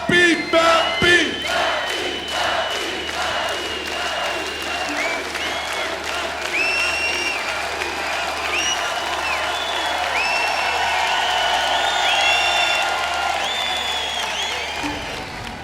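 A large crowd at a 50th birthday celebration for a Limburg singer applauds loudly and chants in rhythm, with cheering voices and sustained clapping filling the space throughout.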